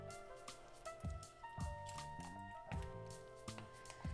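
Black bean turkey chili simmering in a pot, thick and bubbling with soft, irregular plops and squishy pops every half second or so, quiet and close, with no talking.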